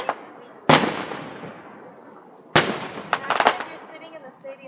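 Two loud fireworks bursts, each a sharp crack trailing into a crackling decay, the second followed by a rapid scatter of smaller pops; quiet voices chat faintly between the blasts.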